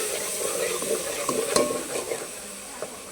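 Tomatoes cook in a pan for a bitter gourd and tomato pulusu, giving a steady, close sizzle with a few soft stirring scrapes and no talk.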